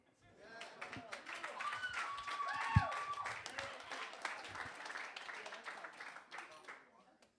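A comedy club crowd claps as a comedian takes the stage, a steady patter of applause with whoops and cheers, rising and then tapering off at the end.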